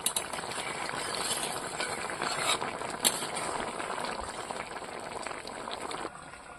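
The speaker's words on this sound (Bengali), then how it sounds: "এবার তরকারিটা আরেকটু সময় ফুটিয়ে নেব" A prawn and eggplant curry simmering in a pan: a continuous, close bubbling boil with small pops and rattles that drops away abruptly near the end.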